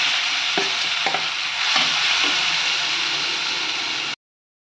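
Raw mango pieces sizzle in hot sesame oil with popped mustard seeds and curry leaves for a pickle, giving a loud steady hiss with a few soft stirring knocks before the sound cuts off abruptly.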